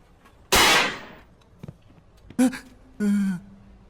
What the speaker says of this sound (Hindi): एक छोटा बच्चा इस बूढ़े आदमी को डराने के लिए एक छोटा सा पटाखा फोड़ता है।